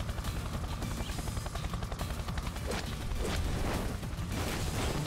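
A helicopter's rotor churns continuously in the video game Yakuza Kiwami, mixed with bursts of gunfire and booms from a fight, all loud and dense.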